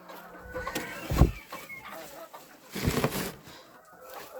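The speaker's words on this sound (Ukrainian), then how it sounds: "Вже тепер її всі кусають за те, що вона Квокає." A broody bantam hen clucking among a small farmyard flock, two or three distinct low clucks over a faint background rustle, fairly quiet and near.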